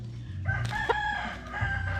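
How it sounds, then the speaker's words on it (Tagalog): A rooster crows once, close and fairly loud, a drawn-out call over low background murmur and someone speaking, in a small poultry-raising setup. "ito mga tropa, yung manok natin"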